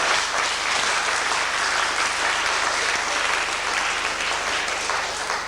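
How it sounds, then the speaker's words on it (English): Sustained applause from an audience at an evening magic show, a steady wash of many hands clapping at even loudness throughout, with no one speaking over it. "Give her a big clap, ladies and gentlemen."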